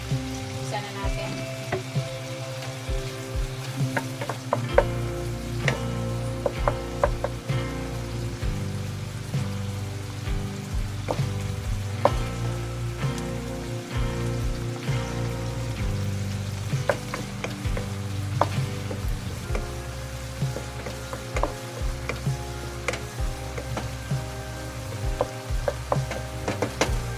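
Onions frying in a little oil for beef giniling, a steady close crackling sizzle with scattered pops running throughout, no talking over it.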